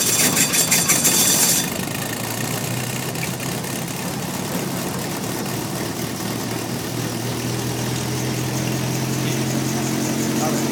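A Rotorway helicopter engine starts with a brief rattling crank, then settles into a steady, loud, close idle with a continuous low drone.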